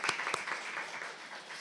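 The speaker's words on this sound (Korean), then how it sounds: "박수 부탁합니다." Academic conference audience clapping briefly, a short patter of applause with a few sharp claps at the start, fairly faint and fading quickly in a quiet room.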